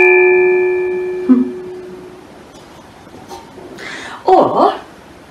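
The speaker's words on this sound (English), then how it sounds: "And I have a gong." A gong struck once with a mallet rings out loud at first, its sustained metallic tones slowly fading over a few seconds before a short voice breaks in.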